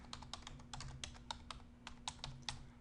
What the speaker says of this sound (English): Helps if I type it in correctly.